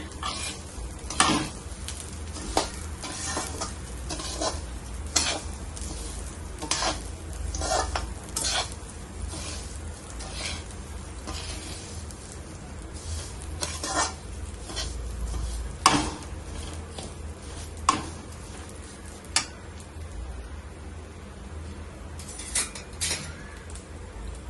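Ingredients for jaggery lapsi roast in a pan with repeated scraping stirs and a continuous light sizzle, the stirring strokes recurring at an uneven rhythm throughout.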